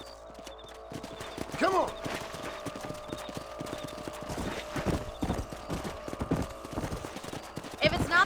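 Galloping hoofbeats from a horse ridden across the range in the video game Red Dead Redemption, a fast steady clip-clop with occasional whinnies, under a character's short spoken line and background music.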